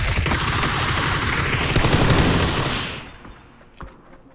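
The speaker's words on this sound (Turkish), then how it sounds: "Bu adamı vuruyoruz sonra aşağı bakıyoruz" Loud, dense automatic gunfire rattles continuously in the battle royale game PUBG, then tails off into fading echoes with one last distant shot.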